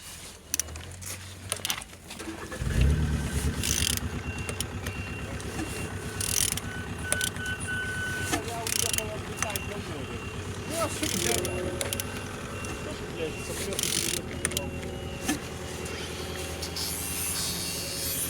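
Aircraft engine 9J116 being turned over by hand during inspection, a mechanical ratcheting, clicking whir with repeated gear and pawl sounds close by, starting after a quiet lead-in and continuing with a voice talking intermittently.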